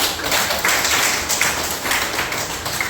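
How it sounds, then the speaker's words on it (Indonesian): Students in a classroom clap together in a steady burst of applause after a maths lesson answer, dense and fairly loud throughout with no talk over it. "Oke, beri aplaus."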